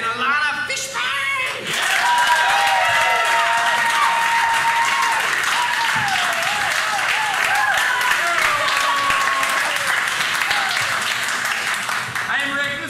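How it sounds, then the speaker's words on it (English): Loud, sustained applause and cheering from an improv festival audience greet two Magnet Theater performers, a dense wash of clapping with a voice briefly heard at the start. "please give a huge round of applause for Rick Andrews and Elana Fishbein!"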